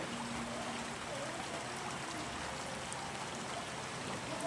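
Floodwater runs steadily through a low-lying neighborhood during the rainy season, a faint, continuous rushing and trickling wash heard from a distance with no voices.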